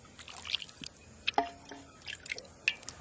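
Liquid South Indian food being ladled and poured during a meal, with soft wet drips and splashes arriving in irregular bursts, close and fairly quiet, with no talking.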